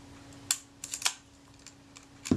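A Kodak Retina IIIC with a faulty cocking rack makes a few quick, faint mechanical clicks and snaps as its shutter is cocked, then a louder clack at the end, up close in a quiet room.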